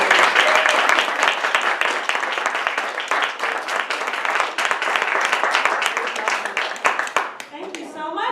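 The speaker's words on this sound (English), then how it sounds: "let's give Sarah Stewart Taylor a big round of applause" A bookstore audience applauds author Sarah Stewart Taylor at a reading, dense steady clapping filling the room for several seconds before tapering toward the end.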